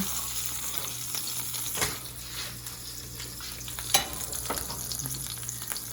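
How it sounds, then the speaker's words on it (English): Meat sizzling in a hot pan right after being flipped, a steady broadband frying hiss with a couple of sharper utensil clicks, close and continuous with no talking. "I just flip it back over."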